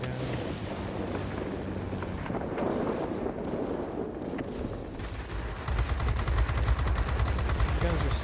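Spitfire cannons and machine guns in the World of Warplanes aerial combat game fire continuously under engine roar, turning into a denser, heavier burst of rapid gunfire near the end.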